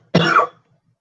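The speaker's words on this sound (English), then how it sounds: "Something was stuck in my throat and I had to cough." A single sharp cough from someone clearing something stuck in the throat, close and loud, lasting under half a second against an otherwise quiet room.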